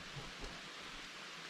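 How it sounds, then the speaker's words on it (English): Heavy rain falls steadily in the Vermont woods during archery deer season, a constant faint hiss with no break and no voices. "It's raining pretty darn good."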